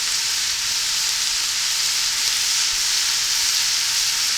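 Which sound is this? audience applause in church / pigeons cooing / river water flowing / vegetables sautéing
vegetables sautéing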